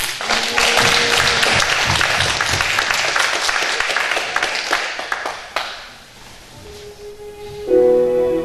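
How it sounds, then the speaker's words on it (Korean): A church congregation at an evening revival meeting claps loudly and steadily for several seconds. The applause then fades out and sustained instrumental tones come in. "박수 한번 해주세요"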